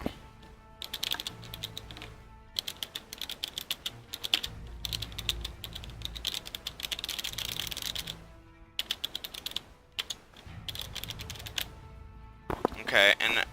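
Typing on a Razer Ornata Chroma keyboard, its membrane keys giving a clicky sound: dense close bursts of keystrokes broken by short pauses, with a louder clatter near the end.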